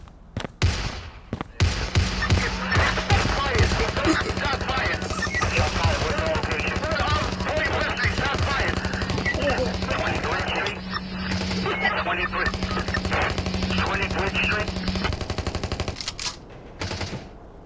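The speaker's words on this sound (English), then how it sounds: "The suspect then opened fire on two uniformed officers outside the Southeast Los Santos police station." A police shootout outside a Southeast Los Santos station in the GTA video game: sustained, dense gunfire fills nearly the whole stretch. Voices mix in and the noise is loud throughout, with a few short gaps near the start and end.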